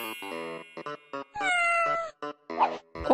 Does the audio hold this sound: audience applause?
no